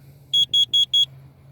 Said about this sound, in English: When you hear that beeping like that, that is the carbon monoxide detector.